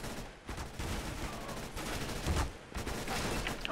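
Rapid automatic AK rifle fire in the video game CS:GO, several loud sustained bursts with brief gaps, dense and continuous across the clip with no talking.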